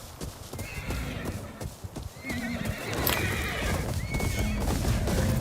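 Horses in a video game neigh and whinny while hooves clip-clop in a busy rhythm, several animals close by and loud, with a brief voice heard in the mix.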